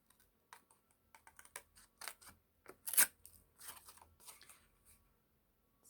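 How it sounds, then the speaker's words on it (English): Scissors snip through thick card in a string of short, sharp crisp cuts, close and fairly quiet, with irregular spacing and one louder snap. "So hopefully this card won't blunt my scissors."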